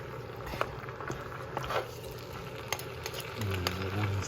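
Food gets tossed and stirred with a wooden spoon in a sizzling pan, a continuous frying hiss broken by light scraping clicks and knocks, with the sizzle swelling louder near the end.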